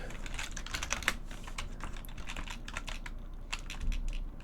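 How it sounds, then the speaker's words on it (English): Rapid typing on a computer keyboard, a dense run of close, crisp key clicks with uneven rhythm and no talk over it. "I continued typing while I was looking at the chat."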